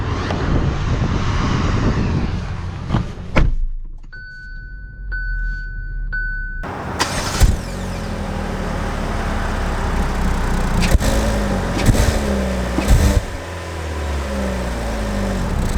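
After a quiet cabin and a short electronic chime, a 2021 Kia Seltos EX starts up and settles into a steady, moderate engine and road drone as it drives off.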